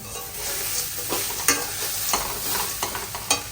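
Crispy corn gets tossed and stirred in a hot pan, a continuous sizzle punctuated by several quick spatula scrapes and clicks, close up, with no talking.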